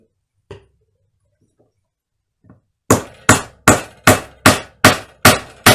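Hammer blows driving wooden dowels into holes in a wooden workbench board: after a few faint taps, eight sharp, evenly spaced strikes ring out close and loud with no talking.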